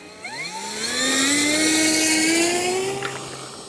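An RC Cirrus model airplane takes off from long grass, its electric motor whining upward in pitch as it throttles up, loud and close, then holding steady as it climbs away.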